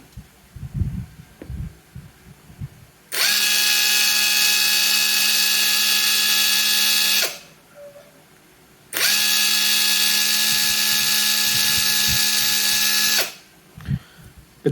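A Ronix 8906K cordless impact driver spins freely at its lowest speed setting with a steady, close, high whine. It runs in two bursts of about four seconds each, separated by a short pause, with faint handling noise before and after.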